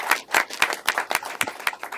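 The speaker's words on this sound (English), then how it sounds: "So a big applause to HOC." A small audience claps at a housing campaign event, the individual hand claps sparse and distinct, about eight near, sharp slaps spread unevenly over two seconds.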